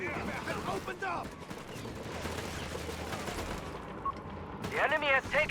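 Artillery and gunfire fill a Company of Heroes 3 battle: dense rattling bursts and repeated booms, with sharper whistling and crackling blasts near the start and end, while a voice talks over the fighting.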